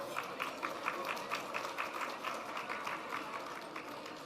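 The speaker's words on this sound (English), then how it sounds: "I think they deserve another round of applause." An audience at an annual fundraiser gala claps in a rapid, uneven patter of many hands, fairly faint and steady, with a slight murmur of voices underneath.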